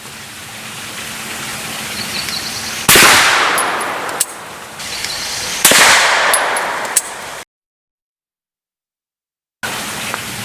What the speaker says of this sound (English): I'm going to try it out right here and see if it explodes pretty well.